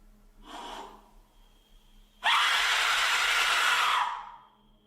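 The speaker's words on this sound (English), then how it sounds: "now it's time for a scream with an Aztec whistle" An Aztec death whistle blown as a scream, a short breathy gasp-like blast followed after a pause by a loud, harsh, sustained shrieking rush that cuts off after about two seconds.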